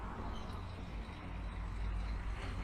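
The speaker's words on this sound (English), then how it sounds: "Sorry about any road traffic noise that we've been getting during these interactions" Continuous road traffic rumbles steadily in the background outdoors, a low broadband wash of passing vehicles with no distinct single pass-by.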